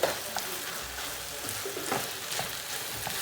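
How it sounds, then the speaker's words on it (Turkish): Garlic fries in a pan beside onions with a loud, continuous sizzle, stirred now and then with soft scraping sweeps, no voices over it. "Hemen sarımsağı ilave ediyoruz. Şöyle bir de karıştıralım."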